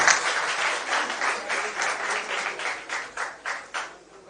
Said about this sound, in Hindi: एक बार उनकी जोरदार ताली बजाइए उनके लिए